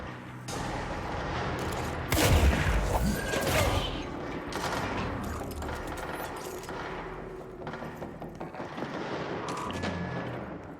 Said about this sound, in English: Someone is shooting, I believe.